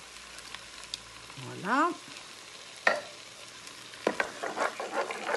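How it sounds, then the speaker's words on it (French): Tomato pulp goes into a hot pan, stirred amid soft frying and sizzling with a few scraping clinks and brief sloshes, while a person speaks briefly. "je vais mettre la pulpe de tomate"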